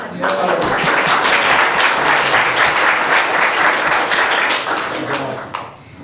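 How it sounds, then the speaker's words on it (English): At a school board work session, a roomful of people claps for a man named Frank in dense, loud, continuous applause that tapers off near the end. "We didn't get to clap for Frank."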